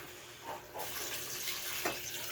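Water is poured steadily into a cooking pot, a continuous splashing flow heard close by.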